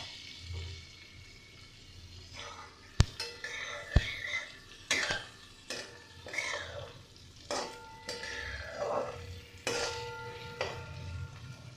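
Capsicum and onions half-frying in a pan while a spatula stirs and scrapes, producing repeated clanks and knocks over a low sizzle, close up with no speech.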